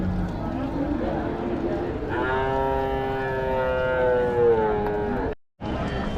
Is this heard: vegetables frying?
no